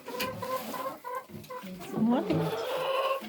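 Several chickens cluck and murmur close by in short, overlapping calls, rising to a louder, drawn-out squawk near the end.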